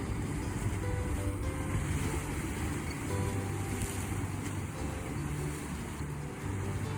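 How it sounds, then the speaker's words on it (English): Ocean waves break against a basalt rock shoreline on Kauai's south shore, a continuous distant wash of surf with light wind and no voices. "where the waves are breaking over there"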